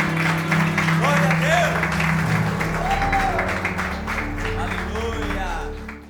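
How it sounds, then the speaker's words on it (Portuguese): A church congregation applauds loudly and steadily for several seconds, the clapping blended with sustained music or an organ pad and some voices, tapering off near the end. "Se você crê que o Senhor está se revelando a você, aplauda Ele bem forte."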